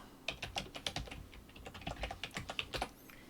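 Computer keyboard typing, a quick irregular run of distinct close keystrokes with a short pause midway, clear and alone with no talk over it.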